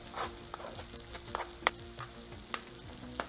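Caramelized tomatoes frying in freshly added vegetable oil, a soft continuous sizzle and crackle with scattered spatter pops and occasional stirring, fairly quiet and close with no talk.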